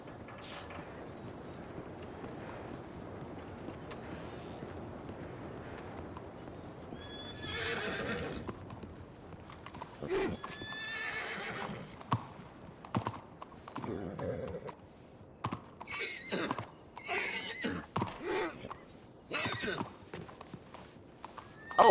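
Horse hooves clip-clop and a horse whinnies in Red Dead Redemption online roleplay, with steady hoofbeats building in the second half and voices talking over them.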